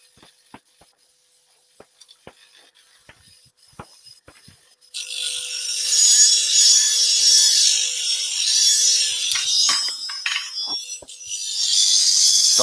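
A woodworking tool blackened for checking the edge is sharpened, a loud, continuous hissing grind and rub that starts abruptly after several seconds of quiet, faint clicks and runs steadily with brief dips.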